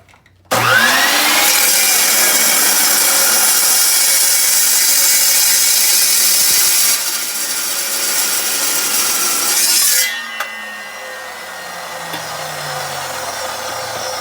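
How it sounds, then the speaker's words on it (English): An Evo carbide cutoff saw chops through a piece of steel with a loud, steady high-pitched whine and grinding rasp lasting about nine seconds, then the blade spins down to a quieter hum. "this is a carbide cutoff saw. We call this the Evo. And I'm going to use it to chop this piece of steel right here."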